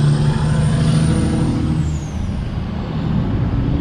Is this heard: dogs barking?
no